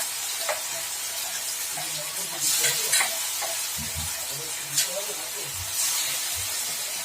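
Tomato paste, ground in a mixer, hisses as it fries in hot oil for a dim tarka, with a steady sizzle, sharper spitting bursts and a few soft stirring clinks close by.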